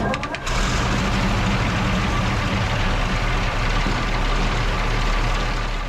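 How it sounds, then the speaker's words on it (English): A Maybach HL230 Panther tank engine idles steadily in a workshop during a carburetor tune-up, a loud, continuous low rumble with a dense broadband roar that holds constant throughout after a brief start. "Start the engine up and we'll let it idle."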